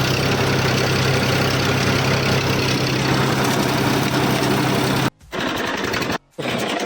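A tractor engine running at 1600 RPM gives a close, steady, loud drone with a constant low hum. The sound cuts out briefly twice near the end.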